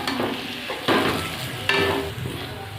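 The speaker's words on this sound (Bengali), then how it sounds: "চিনিটা দিয়ে একটু নাড়িয়ে নিয়েছি।" Cooked greens being stirred with a pinch of sugar in a pan, a soft steady sizzle with two sharper scraping strokes of the spatula, close-up and with no talk.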